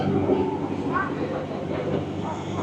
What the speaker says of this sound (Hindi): ट्रेन का इंतज़ार और कुछ ट्रेन की रेल फैनिंग।